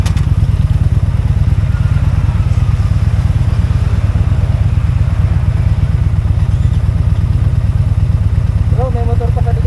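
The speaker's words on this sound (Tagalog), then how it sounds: "May motor pa sa likod, ha?" Motorcycle engine running steadily and loudly close by throughout a ride through Real, Quezon, a continuous throbbing drone with faint clatter and voices mixed in.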